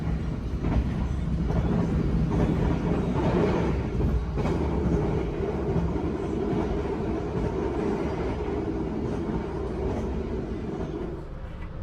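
The Madiun Jaya executive passenger train runs steadily on the rails near Cikampek, heard from inside as a continuous low rumble with faint clickety-clack of the wheels, no talking.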